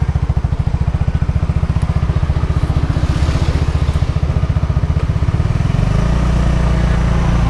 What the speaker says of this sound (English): I guess it's a motorcycle ride back to the condo.